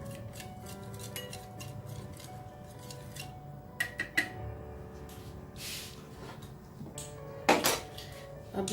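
Fresh cream is worked into a chicken marinade in a bowl, sparse clinks and taps of a spoon against the dish over quiet background, with a few sharper knocks and a soft scrape.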